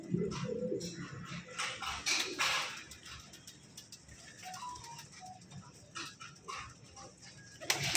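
Several pigeons coo in a loft or market full of birds, soft repeated throaty calls rising and falling over a busy low background, with a dog-like bark or animal noise briefly mixed in; no voices stand out.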